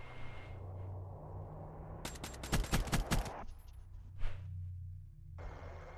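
A rapid burst of gunfire in Black Ops 3 multiplayer, about five sharp shots in quick succession near the middle, loud over a low steady game hum, followed by a lone softer crack.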